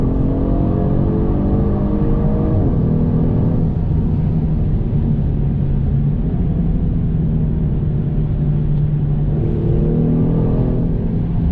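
A Genesis G70 3.3 turbo driven fast gives a loud, constant engine drone with a rumbling low end, its pitch sweeping up and settling as it revs, with no talking.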